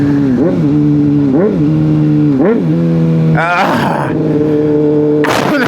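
Honda CBR600RR motorcycle with an aftermarket exhaust and no catalytic converter, loud and close, revving up and blipping through several rapid downshifts with rising and falling engine pitch.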